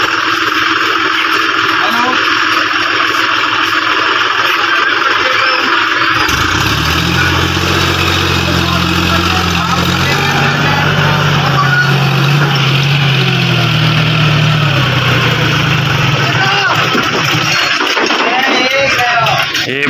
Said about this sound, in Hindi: बंद हो गया ट्रैक्टर, सांस ही भूल गया भाई।